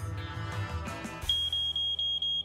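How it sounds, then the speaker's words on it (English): A malfunctioning smoke detector sends out a loud, piercing high beep that repeats in rapid pulses, taking over after a rumbling, muffled stretch of ambient noise. "Code 16, malfunctioning smoke detector."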